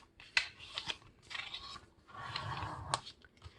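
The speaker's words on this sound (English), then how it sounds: "I fold it to the intersection of all the creases. Now, press down the paper." A folded sheet of paper is pressed flat while making a paper airplane, giving close, crisp crinkles and a couple of sharp creasing snaps over a few seconds.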